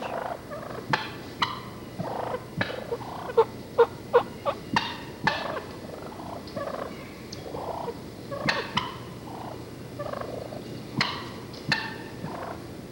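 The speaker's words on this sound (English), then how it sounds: "Here's some young gobblers clucking and purring." Young wild turkey gobblers in spring clucking and purring, a scattered series of sharp close clucks and soft rolling purrs over a quiet outdoor background, irregular and unhurried.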